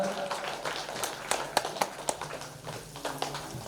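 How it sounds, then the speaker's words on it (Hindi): An audience at an Arya Samaj programme in Barh claps to welcome the event. The clapping is a brisk, crowded patter of many hands at moderate volume, fairly close, and keeps up steadily for a few seconds. "जोरदार तालियों से इस कार्यक्रम का अभिनंदन वंदन"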